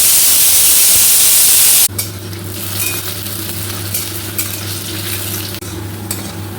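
Bay leaf, dried chilli and whole garam masala frying in hot oil: a loud hiss that drops suddenly into a steadier sizzle, with a low hum and occasional stirring clicks.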